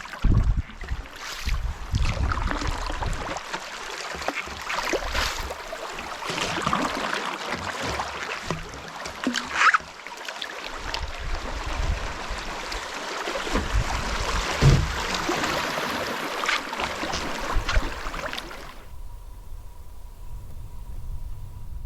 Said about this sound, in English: A great time paddling down the Lady Evelyn right now.